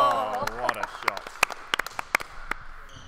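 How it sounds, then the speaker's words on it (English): Spectators clap in short, scattered bursts at a university badminton match between Warwick and Nottingham Trent men's teams, the sharp claps close and loud after a commentator's voice fades out. "We apologise if the clapping's loud, we're quite close to the microphone."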